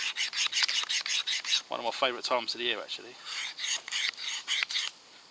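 A knife edge rasps against a sharpener outdoors in an autumn forest, rapid rhythmic scraping strokes close up and loud, with a person speaking briefly in the middle of the strokes.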